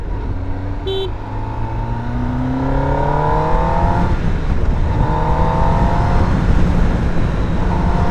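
A superbike engine revs hard under acceleration, its rising pitch sweeping upward in repeated pulls, loud and close with steady road and wind roar, plus a brief high beep early on.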